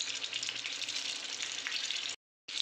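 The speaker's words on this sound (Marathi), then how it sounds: "शॅलो फ्राय आपल्याला करून घ्यायचं आहे" Green chilies shallow-fry in a pan with a dense, steady hiss of bubbling oil, close up, broken by a short cut to silence near the end.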